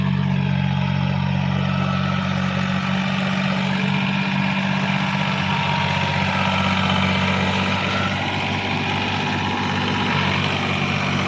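A Powertrac Euro G28 tractor engine running close by, a loud, steady low drone with an even mechanical hum held throughout, no voices.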